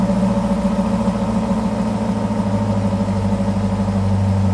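A very loud Corvette engine idling at about 700 RPM, a deep, steady, rumbling burble heard up close and continuous without pause.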